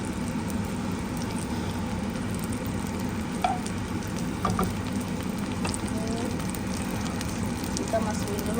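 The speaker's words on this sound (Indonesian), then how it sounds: "Kita masukin dulu bawang merahnya ya." Shallots fry in a pan as the start of a beef stew, giving a steady, close sizzle throughout with occasional light clicks and scrapes of stirring.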